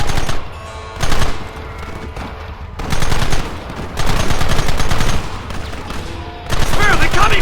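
Gunfire in Red Dead Redemption comes as loud volleys of overlapping shots in several bursts, with brief lulls between them and voices mixed in.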